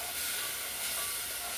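Meal-prepped sausage cooks in a pan with a steady, even sizzling hiss that runs unbroken throughout, close and moderately loud, with no talking.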